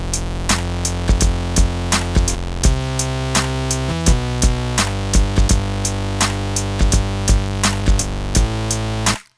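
A bright synth bass plays a rhythmic pattern of punchy notes over crisp, steady percussion hits in a chill electronic beat, loud and unprocessed by EQ, cutting off abruptly at the end.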